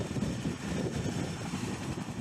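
A CH-47 Chinook helicopter drones with a low, steady rotor and engine rumble, faint and continuous, with no voices.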